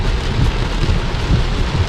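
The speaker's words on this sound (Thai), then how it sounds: "ฝนตกอย่างหนักเลยนะท่านผู้ชม" Heavy rain drums steadily and loudly on a car while driving a narrow, newly resurfaced mountain road, a dense continuous wash of noise with no pauses.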